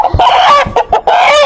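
A rooster clucks loudly and close up in a short run of sharp, repeated calls with brief gaps between them.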